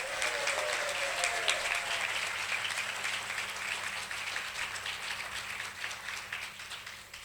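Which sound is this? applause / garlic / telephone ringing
applause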